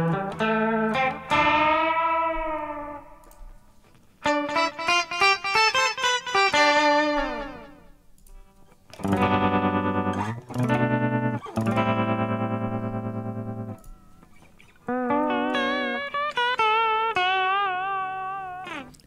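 Synthesized music phrases shift through swooping, warbling and echoing live effects in Ableton, each passage sounding differently processed, loud and continuous with brief gaps.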